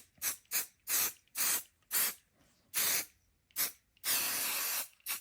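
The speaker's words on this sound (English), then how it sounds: "You're going to spray your adhesive on the foam board." Several short bursts of aerosol adhesive spraying onto foam board hiss with pauses between them, ending in one longer continuous spray, close and fairly loud.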